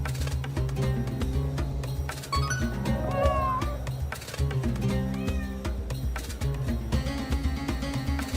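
Cat meows from a hidden-cat mystery game, short rising and falling cries sitting over steady looping background music with a low beat, moderately loud and recurring through the passage.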